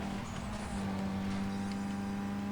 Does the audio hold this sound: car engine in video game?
yes